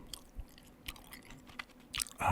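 Close, quiet chewing of Big League Chew gum, with soft wet smacks and clicks at an irregular pace and a louder smack at the end, and no talking.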